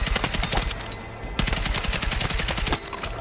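M417 A2 rifle in Battlefield 6 tap-firing a rapid series of sharp, close, loud single shots in an uneven rhythm, each crack followed by a short echo, with no talking.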